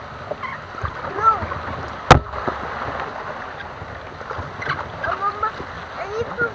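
A kayak paddle dips and pulls through swamp water, with soft repeated splashes and one sharp knock. A family talks over the paddling throughout.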